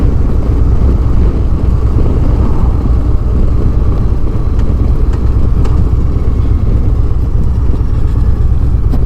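A 2022 Harley-Davidson Road Glide Special pulls out and rides, giving a loud, steady, low rumble mixed with heavy wind roar throughout.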